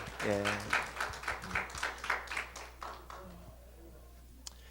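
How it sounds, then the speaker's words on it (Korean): A church congregation applauds after a choir anthem at a Korean church service, a burst of steady clapping that thins out and fades over a few seconds, with a voice speaking over the start. "우리 박수로 한번 격려하겠습니다"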